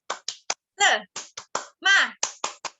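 A quick rhythmic pattern of claps, several short sharp claps broken by two longer vocal bursts, like a fourth-grade class doing a chant-and-clap routine.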